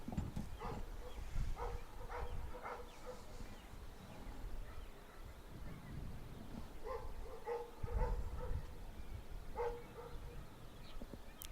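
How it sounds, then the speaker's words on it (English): A dog barks in short bursts at a middle school baseball game, sharp yelps recurring in clusters several seconds apart, moderately distant over steady outdoor field noise. "every time the dog barks, the sound bar jumps"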